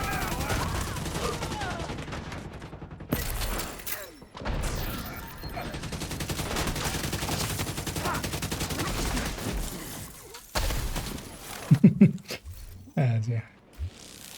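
Sustained bursts of gunfire aimed at a heavy enemy in a shooter game, loud and steady for several seconds, then breaking into scattered shots and impacts near the end, with someone talking over parts of it.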